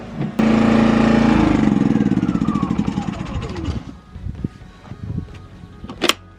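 A small engine of an XTM 2000 watt inverter generator runs loudly, then its pitch drops and settles as the load changes, followed by quieter, uneven idling with a few clanks.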